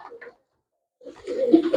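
A domestic pigeon coos softly and close by, a brief murmur at first, then a pause and a longer, fuller burble of low cooing.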